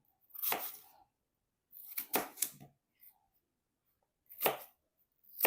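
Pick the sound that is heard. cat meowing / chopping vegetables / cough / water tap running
chopping vegetables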